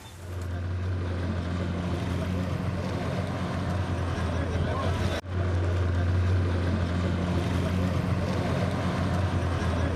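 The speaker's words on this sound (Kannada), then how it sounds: "ಕಣ್ವ ಜಲಾಶಯದಲ್ಲಿ ಇವತ್ತು ವಾಟರ್ ಬೈಕ್ ರೈಡ್ ಮಾಡ್ತಾ ಇದ್ರು." A water bike (jet ski) carrying two riders on Kanva reservoir, its engine a loud, steady low drone with a strong continuous hum and a brief dip midway, no talk.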